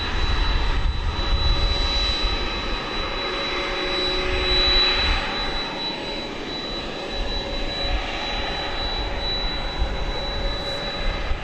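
A UPS Boeing 767-300ER jet at DFW Airport at night, positioned for takeoff, with a sustained loud engine roar and thin steady whine that swells slightly midway and holds with no voices.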